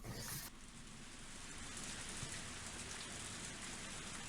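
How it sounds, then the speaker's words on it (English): Pouring rain from the video game Higurashi, a dense steady hiss of heavy drops drumming on surfaces, continuous and fairly loud after a brief shift at the start, no speech. "Only the sound of the pouring rain filled up the silence."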